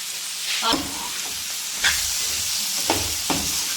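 Fried soya chunks sizzle steadily in a pan while being stirred, with a few louder scraping strokes of the spoon rising over the constant frying hiss.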